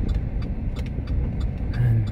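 Road traffic on Taft Avenue at rush hour makes a steady, continuous engine rumble with passing car noise throughout, heard from inside a vehicle, with no talking.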